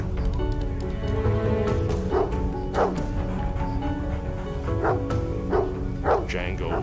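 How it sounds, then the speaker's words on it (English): A Labrador barks repeatedly at close range in a house, sharp full barks in an irregular series over a constant low background rumble, with no talking. "When I woke up, I was almost annoyed why she was barking and why she was in my face."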